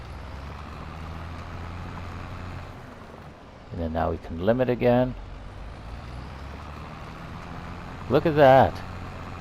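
A tractor hauls a large plow across an oat field, its engine a steady low drone throughout, with someone speaking briefly over it twice.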